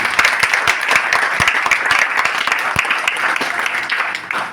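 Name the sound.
loud audience applause at a meeting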